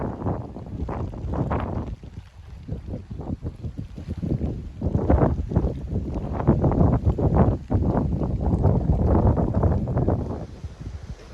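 Strong gusts of wind buffet the microphone on a lake during a canoe camping trip, loud irregular roaring bursts that swell and drop over several seconds, with no voices.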